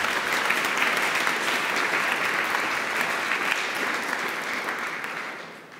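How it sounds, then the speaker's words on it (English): An audience at PyCon UK 2019 lightning talks claps in a sustained burst of applause that fades out near the end. "A quick round of applause, please."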